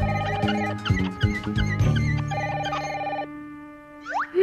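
A telephone rings in a French cartoon with a bright, repeated electronic bell warble, layered with musical tones and quick cartoon effects, ending in a rising whistle.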